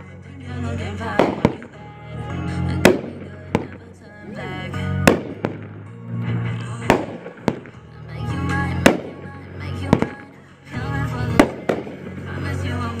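A 12-shot 200 g Knuckle Sandwich firework cake fires a rapid series of loud booming shots, each followed by crackling bursts, with faint voices in the background.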